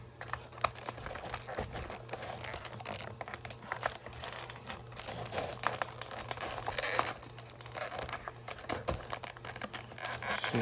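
Crinkling plastic packaging of a toy tractor set being snipped with scissors and handled up close, with scattered crisp cuts and rustles over a low steady hum.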